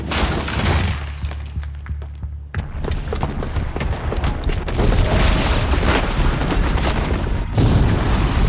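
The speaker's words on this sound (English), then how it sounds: "the booby trap on the bomb downstairs is gonna get set off" A booby-trapped bomb goes off in Horizon Zero Dawn, a heavy booming blast with shattering debris and a long rumbling roar that stays loud for several seconds, no voices.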